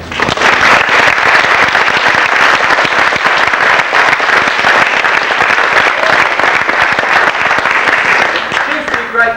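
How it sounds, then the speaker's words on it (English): Loud, dense audience applause at a 1996 Boys' Brigade concert in High Wycombe, continuous heavy clapping from a large crowd sustained for several seconds, close-up and crackling, with faint voices mixed in. "I think they need a great round of applause, please"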